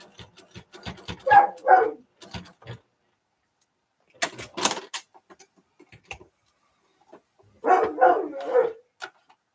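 A dog barks outdoors in three separate bursts of several barks each, spaced apart with quiet gaps between them, moderately close and fairly loud, with no talking.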